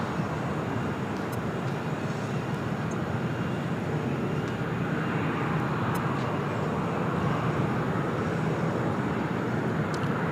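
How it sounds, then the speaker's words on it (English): American airliners taking off from LAX's south side, heard as a steady, distant jet roar that stays even across the whole stretch, with faint clicks over it. "Long line of American takeoffs about to happen here on the south side."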